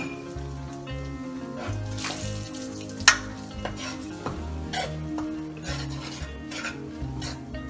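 Gram flour roasting in ghee in a pan for besan ladoo, stirred with a spoon that scrapes and rasps continuously, with a soft sizzle and one sharp clink partway through; no voices.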